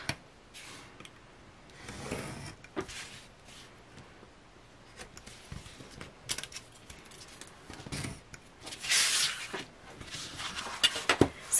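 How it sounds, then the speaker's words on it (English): Craft knife drawing along a ruler to trim cardstock for a handmade oversized photo frame birthday card, faint close scratchy strokes in short bursts with quiet handling noises between them. "I'm just going to trim just that flat layer."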